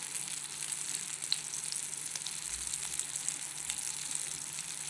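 Fish pieces fry in oil in a pan, giving a continuous fairly quiet crackling sizzle with small pops throughout and no talking.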